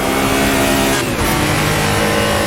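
A Porsche RSR 74 racing car in a racing simulator, its engine held loud and steady as it bounces off the rev limiter, with a brief dip in the drone midway.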